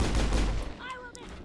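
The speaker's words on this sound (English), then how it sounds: "I'm just gonna run in here with guns ablazing" Gunfire in Mass Effect 1, a short loud burst of shots right at the start that quickly fades, followed by a brief sound like a voice.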